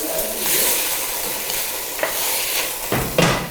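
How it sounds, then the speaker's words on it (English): Beef chunks brown in hot oil in a stew pot with a close, steady sizzle and sputter, and a few louder scrapes and stirs toward the end. "We're just going to cook it a little bit, get it all covered in oil and fried a little bit."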